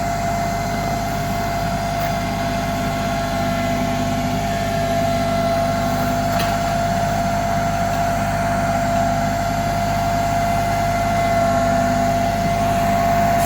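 A tractor engine runs steadily while driving pipe posts with a Shaver post driver, a constant loud mechanical drone with a low rumble and a whining tone, heard close and unbroken with no talking.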